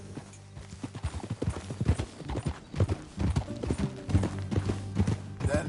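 Horse hooves clip-clop steadily on the ground in the video game Red Dead Redemption II, a close rhythmic trot with clear repeated hoofbeats under a low background hum.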